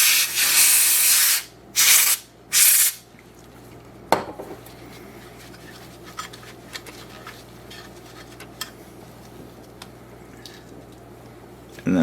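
A cleaner spray bottle is squeezed three times in quick bursts while a Premier Pets pet fountain pump is being cleaned, followed by a sharp click and scattered faint plastic handling noises over a quiet hum.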